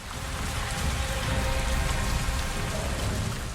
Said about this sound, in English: From the weather effects of the wind and rain